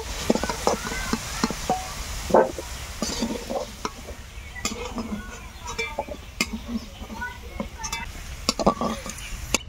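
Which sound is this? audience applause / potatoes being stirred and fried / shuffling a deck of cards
potatoes being stirred and fried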